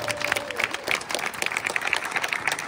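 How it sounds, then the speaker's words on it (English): A short burst of crowd applause, with many hands clapping in a busy, uneven patter at moderate volume, cut off mid-ovation. "Give a big round of applause."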